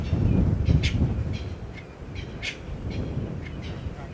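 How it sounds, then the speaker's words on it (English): Hadeda ibis and Natal spurfowls calling out in the open on a sunrise safari drive, several raucous cries rising over a rumbling, wind-buffeted background at moderate distance. "There's a hardy-dar shouting in the background, and I think it's Natal spurfowls that are also shouting"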